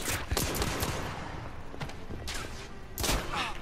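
Gunshots in the video game The Order 1886, a few sharp reports and short bursts spaced over a rumbling battle background, moderately loud.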